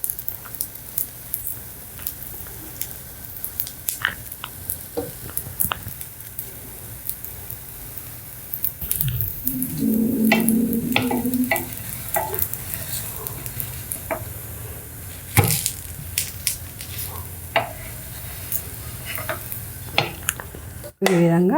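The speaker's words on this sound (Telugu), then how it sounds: "ఇప్పుడు ఆనియన్ దోశ వేసుకున్నాం." A jowar onion dosa cooks in a little oil on a pan over a medium flame, giving a soft sizzle. Scattered clinks and scrapes of utensils sound over it, with a louder hiss for a few seconds midway.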